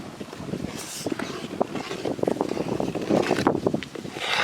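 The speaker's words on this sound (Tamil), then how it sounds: "இன்னைக்கு காற்று வேறு சரியான காற்று அடிச்சுக்கிட்டு இருக்கு மதுரையில்." Strong wind blows outdoors in Madurai, a continuous loud rushing roar buffeting the microphone with gusty swells, over faint background activity.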